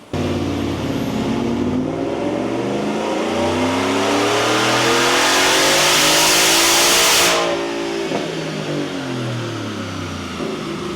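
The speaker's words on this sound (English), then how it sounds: "So let's get this thing spun up." A supercharged 2024 Ford F-150 Outlaw Sport with a Stage 2 Whipple, stock manifolds and stock catalytic converters revs up loudly and steadily, climbing in pitch before cutting off sharply and settling back to a lower drone.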